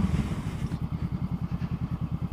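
A 2014 Honda CBR500R fitted with a Coffmans aftermarket exhaust idles steadily nearby, its deep, even exhaust pulses thumping in a regular rhythm with no voices.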